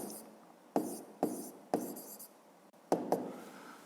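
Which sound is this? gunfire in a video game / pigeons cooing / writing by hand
writing by hand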